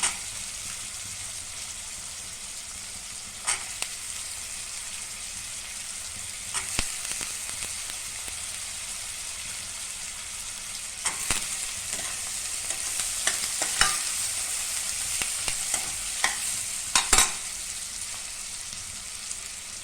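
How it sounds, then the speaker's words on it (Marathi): Green peas roasting with onion and turmeric in a pan, a steady bright sizzle running throughout with occasional clicks and scrapes of stirring, close and continuous with no talking. "हळद टाकल्यानंतर या कांद्यामध्ये हिरवा वाटाणा आपला तो भाजून घेऊया"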